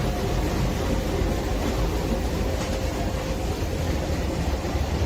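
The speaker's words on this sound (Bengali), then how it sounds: "আমাদের ট্রেন চলে এসছে" Howrah Duronto Express, train 12273, rolling in at a station platform as a steady, broad rumble of rail and carriage noise with no clear horn, continuous at an even level throughout.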